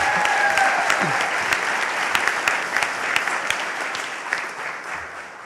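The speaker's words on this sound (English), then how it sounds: "Love the applause." Dense, sustained audience applause at a college commencement ceremony, a loud wash of many hands clapping that holds steady and slowly eases off, with faint voices beneath.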